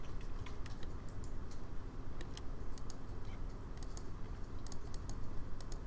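Keys on a computer keyboard are tapped in scattered light clicks, some in quick bursts, close but soft over a steady low background hum, with no talk.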